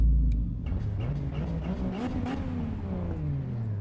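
A non-competitive race car in the Assetto Corsa EVO racing game revs steadily, its engine note climbing and falling through gear changes. It sounds moderately loud and continuous, with a whirring mechanical edge.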